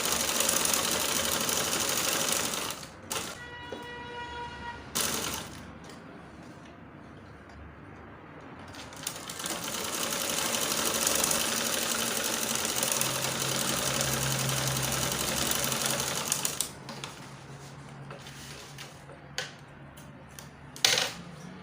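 Home sewing machine running a gathering stitch along a long length of fabric for a circle skirt, heard as bursts of steady mechanical whirring with brief pauses between runs, close and moderately loud, no talking.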